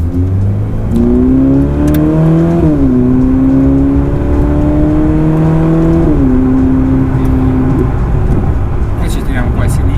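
A Ferrari 488 Pista engine revving while driving, just past break-in. The tone climbs smoothly and drops sharply twice as gears shift, loud and close, with a voice talking over it.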